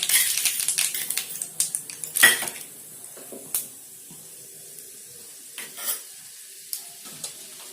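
Mustard seeds and chana dal sputtering in hot oil while tempering for banana flower rice. Scattered sharp pops and crackles come in quick clusters at first, then thin out to occasional close, bright snaps over near silence.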